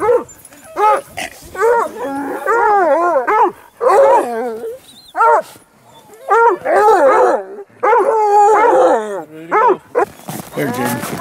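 A hunting dog on a hot mountain lion track in badlands country bays and barks repeatedly in eager, rhythmic bursts, loud and close, with short whining calls between the barks.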